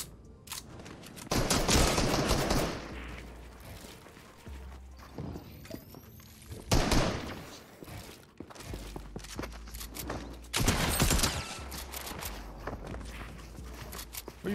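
Gunfire in Fortnite comes in several loud, rapid bursts of rattling shots, separated by quieter stretches of footsteps and movement, with no speech over it.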